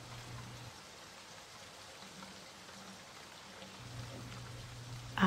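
Steady rain falls in an otherwise hushed scene after a thunderstorm has passed, a soft, even patter with no voices and a faint low hum.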